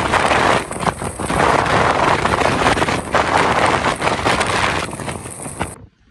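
Strong daytime wind in Bhalubang, Dang roars and buffets the microphone as a loud, continuous rush that surges and dips for several seconds before cutting off abruptly.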